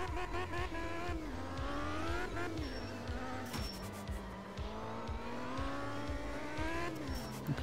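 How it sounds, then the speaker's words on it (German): Soviet rally car in the Art of Rally video game, its engine droning and revving continuously with gear changes and brief tyre squeals, loud and close throughout. "ist der sehr interessante Sound in dem Auto"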